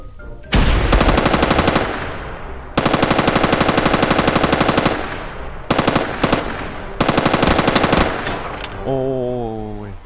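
Guns firing in Minecraft, loud rapid automatic bursts in several long strings separated by short pauses, ending in a warbling electronic tone.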